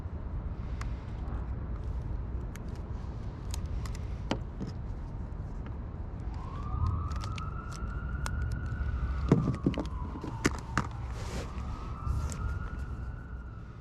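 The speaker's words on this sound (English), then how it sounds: "I didn't know if those sirens were for me" A police siren wails faintly in the distance in downtown Long Beach, rising and falling under a steady city rumble, with scattered clicks and knocks nearby.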